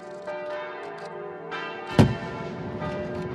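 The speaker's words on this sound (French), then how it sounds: "Au son des cloches et des canons" Church bells ring out over Lyon with a single deep cannon boom partway through, the bell tones sustained and layered as the blast's rumble decays beneath them.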